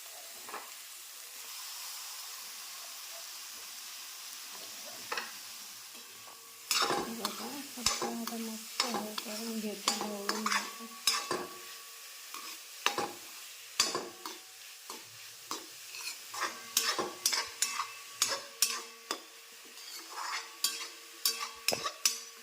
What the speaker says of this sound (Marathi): आता आपण शिमला मिरची आणि हे किसलेलं गाजर एकत्र टाकूया